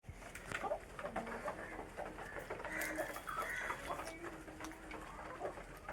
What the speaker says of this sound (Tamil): எங்கள் மாமியார் வீட்டில் கிடக்கிற கோழி